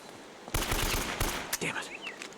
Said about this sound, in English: I'm just gonna empty the AK just to have like an easy way to get upstairs faster